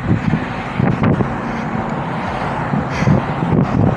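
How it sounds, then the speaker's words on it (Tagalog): Strong headwind while cycling on a flat road in Abu Dhabi buffets the microphone in loud, rumbling gusts, with low roaring swells and occasional sharper bursts throughout. "Grabe ang hangin."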